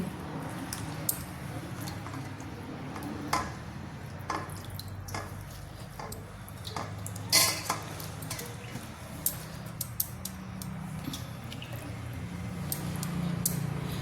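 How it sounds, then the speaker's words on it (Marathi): Freshly washed leafy greens, chakvat, are dropped into a pressure cooker in a home kitchen, giving soft wet squishes, drips and scattered clicks against the metal pot. "तर आता ही स्वच्छ धुतलेली भाजी मी कुकरमध्ये घालून घेते"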